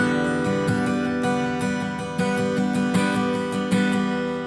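A guitar chord fretted high up the neck with open strings rings out, strummed repeatedly in a steady rhythm, the full sustained chord sounding alone and close.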